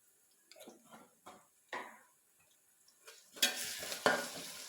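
Coconut and onion being sautéed in a pan with garlic-ginger paste added, giving a few scattered stirring scrapes and soft sizzles that swell into a louder, steady frying hiss near the end, with no talking.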